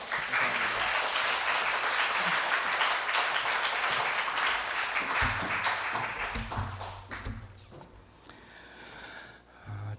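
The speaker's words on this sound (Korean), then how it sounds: "우리 뜨거운 박수로 맞이할게요" Warm applause from a church congregation at a Sunday evening service greets a guest pastor. Dense clapping fills the first half, then thins into scattered claps and fades toward the end.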